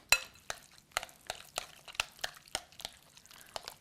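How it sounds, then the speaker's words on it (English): Spoon working lemon zest filling in a bowl for cannelloni, a series of faint, evenly spaced clicks and scrapes roughly every half second, quiet and with no talk over them. "we're going to mix that around"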